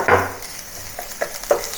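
Chopped green onion whites, ginger, garlic and dry chili sauté in a hot wok, a soft sizzle under several sharp spatula scrapes and taps, close and fairly loud.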